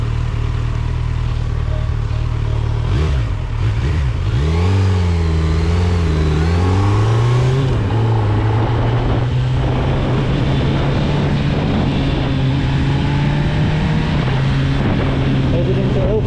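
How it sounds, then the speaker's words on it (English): A 2025 Kawasaki Z900 ABS motorcycle accelerating through Ilford town traffic, its engine note climbing and wavering as it revs, then settling into a steady, loud drone with wind rush throughout. "Headed into Ilford now. Ilford town, look. Turns on the torquey."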